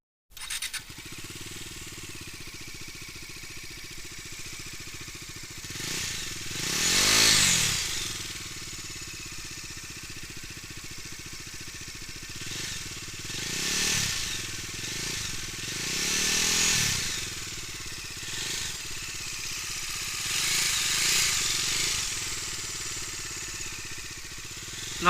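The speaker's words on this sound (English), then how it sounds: "this also produce a heavy bass note while you ride" A Bajaj Dominar 250 motorcycle engine rumbles steadily with a deep bass exhaust note, swelling louder in several revving surges before settling back.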